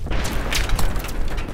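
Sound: explosion in the video game Battlefield 3

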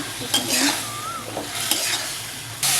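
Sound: stir-frying prawns with masala

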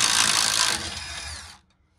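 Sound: power tool loosening bolts on a scrap generator

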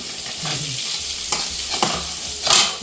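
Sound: dried fish frying in a pan

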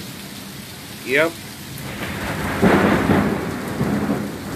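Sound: rain and thunder during a thunderstorm

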